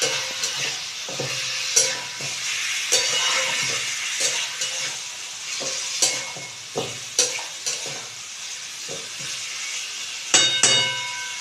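Marinated chicken fries in a pan with a continuous sizzle, broken by repeated scraping and clinking as a spoon stirs it. The stirring is close and uneven, and there is no speech.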